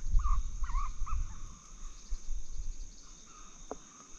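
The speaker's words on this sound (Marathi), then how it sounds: "पक्ष्यांचे आवाज यायला लागलेलेत." Birds calling near a camp at dusk after sunset: a few short, clear chirping calls early on, then quieter, over a steady background hum of insects and crickets, with no talking.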